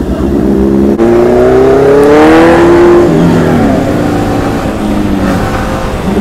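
Yamaha R15 V4 motorcycle engine revving loudly up close, with rising and falling harmonic pitch sweeps as the throttle is blipped over about six seconds, no talk.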